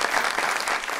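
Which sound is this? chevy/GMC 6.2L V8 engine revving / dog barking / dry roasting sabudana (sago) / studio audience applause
studio audience applause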